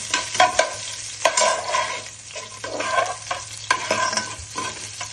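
Ginger and garlic sauté in a pan, a steady sizzle broken by repeated scraping stirs of a spatula in uneven bursts, close and fairly loud with no talk.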